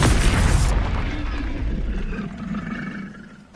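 A fiery Incendio spell is cast in Hogwarts Legacy, a loud booming roar of flame that bursts at once and then slowly fades out.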